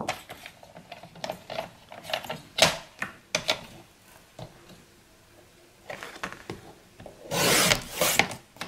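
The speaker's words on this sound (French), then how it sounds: "il faut également que je coupe cette petite bande de référence" Paper strip being cut for a scrapbook page, a run of short dry scraping and snipping strokes, close and fairly quiet, ending in a louder burst of rustling friction.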